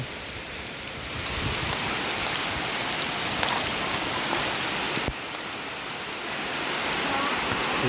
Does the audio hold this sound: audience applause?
no